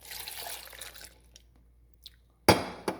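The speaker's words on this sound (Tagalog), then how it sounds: "Tapos ibubuhos ko to siya." Fruit juice chilled until partly frozen is poured from a container, giving a soft liquid rush at the start and then sharp glassy clinks and splashes near the end, close and fairly quiet.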